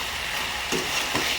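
Spices frying in hot oil for pickle are stirred in a pan, a steady sizzle running throughout with two brief louder scrapes of the spoon near the end.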